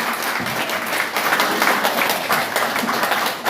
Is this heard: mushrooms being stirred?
no